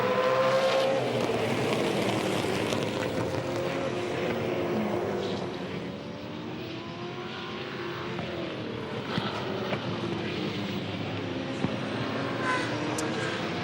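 V8 Supercar race cars roar past at Winton Raceway, a dense wall of engine noise with rising and falling pitches as cars approach and pass in a pack, heard from trackside at moderate distance.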